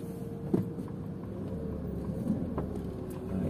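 Cars passing on a street in Cabo Frio, a low steady engine rumble with a faint hum, a few soft knocks and light wind buffeting, moderately quiet and without voices.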